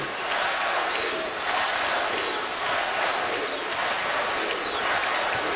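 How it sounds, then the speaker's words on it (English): A basketball arena crowd in a tie game between Duke and Utah roars steadily, a dense sustained wall of cheering and applause with no break. "Listen to that crowd."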